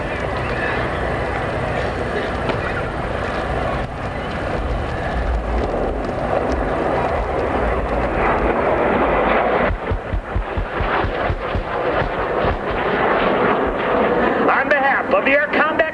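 Aircraft at an air show: a loud, sustained engine roar swells and shifts as the plane passes, with rapid fluttering pulses later on, mixed with crowd and ambient noise.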